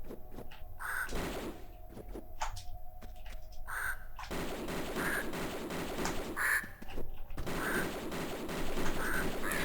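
Birds appear in Tomb Raider 2: Golden Mask Remastered, giving harsh repeated squawking cries at a steady pace over a constant mechanical game background, with no speech.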